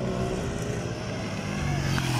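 An Italika 125Z motorcycle and a scooter race past close by, engines droning loudly and steadily with a slight rise in pitch, with no voices over them.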